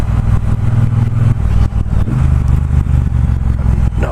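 A 2018 Triumph Bobber Black motorcycle being ridden, its engine thrumming steadily up close with a low, throbby note and shifting load, along with some rattly clatter and wind.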